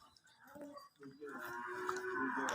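A Nili buffalo moos in a long, low drawn-out call that grows steadily louder and holds to the end, with a brief quieter pause partway through.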